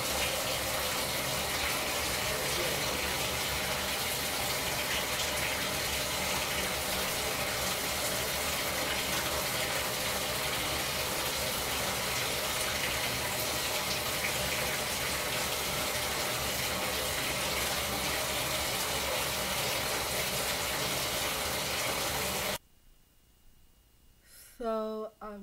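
Shower water running in a home bathroom, a loud, steady hiss that flows for most of the stretch and then cuts off, leaving a few quiet knocks near the end.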